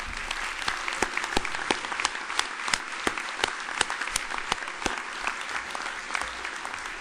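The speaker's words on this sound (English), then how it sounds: "I'd like to ask all of them to please stand up and now give them your applause" Warm applause fills the room at a First Amendment awards dinner, many hands clapping with distinct sharp claps standing out, sustained and fairly close throughout.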